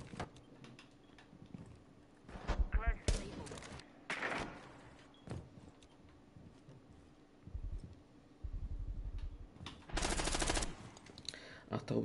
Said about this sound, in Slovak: A Taubi sa tam strieľal s Omejom.